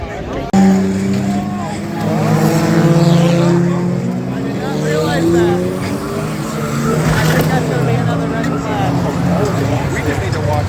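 Race cars roar around a track at the Freedom Factory with loud sustained engine drones, rising and falling as they pass, while someone talks over the racing.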